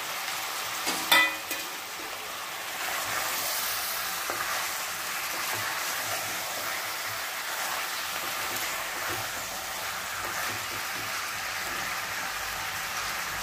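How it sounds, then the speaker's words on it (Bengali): Chicken pieces and onions frying together for chicken do pyaza make a continuous, even sizzle, like light rain. A couple of clatters near the start come from the pan, and no one speaks. "এটা একটু ভাজা ভাজা হোক, এটাও পেঁয়াজটাও ভাজা হোক, এটাও ভাজা ভাজা হবে, দুটোই।"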